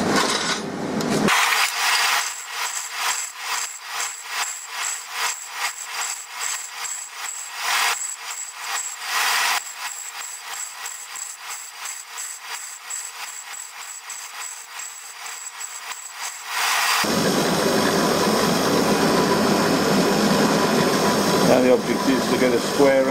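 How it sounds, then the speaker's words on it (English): A bench grinding wheel dresses the end of a steel punch to square it, giving a steady whining grind with a high ringing tone and repeated short surges, then a louder, harsher broadband rush near the end. "grind the end of the punch to achieve a parallel finish, and that means rotate it before it comes into contact with the wheel"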